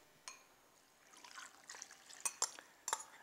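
Marinade pours and splashes over drained, thinly sliced pickled red onions in a bowl, a few soft wet trickles and small splashes, faint and close.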